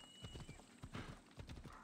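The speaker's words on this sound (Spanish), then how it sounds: "vaya caballo guapo tengo, ¿no?" Horse hooves clip-clop at a quick, steady gait in Assassin's Creed Odyssey, a close, quiet run of irregular thuds lasting under two seconds with no talk.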